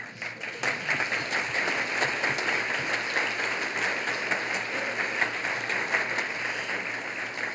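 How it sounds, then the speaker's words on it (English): Luncheon audience applauding at a Hometown Heroes awards event, a steady, dense wash of clapping that holds at an even level for the whole stretch with no voices over it. "please join me in one more round of applause"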